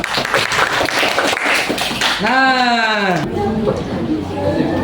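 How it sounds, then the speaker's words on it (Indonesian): A class applauds during a school lesson: dense clapping rises under voices, then a rising and falling whooping cheer, and the noise settles into lingering crowd murmur. "Mantap, luar biasa, berikan aplaus"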